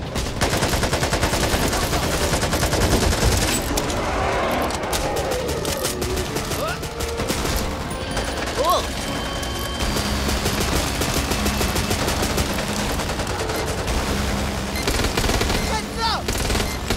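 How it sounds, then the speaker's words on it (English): Sustained assault rifle fire in the Back 4 Blood zombie shooter, dense rapid bursts running almost nonstop at full volume with game effects and shouted voices layered underneath. "Assault rifle! Reload!"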